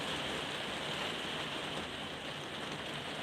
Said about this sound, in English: Wow, this rain.